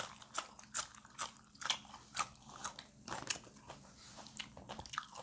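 Crisp bites and crunchy chewing of a raw leafy vegetable eaten with bitter beef larb, a dozen sharp crunches in an irregular rhythm, close and clear with no talk.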